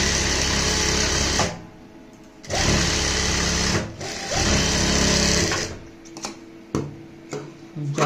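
Sewing machine stitching a straight seam on a blouse, running in several loud sustained bursts of rapid whirring with short pauses between them.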